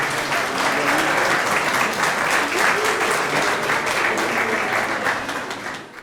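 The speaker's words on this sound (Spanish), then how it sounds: "denles un aplauso" A congregation applauds for children called up front at a church gathering, a steady, dense clapping that fills the space at full level and fades slightly toward the end.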